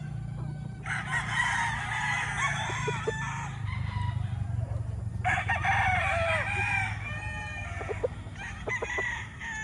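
A Kelso bloodline gamefowl rooster with white markings crows twice on a game farm, each long loud call rising and trailing off over a low steady background hum.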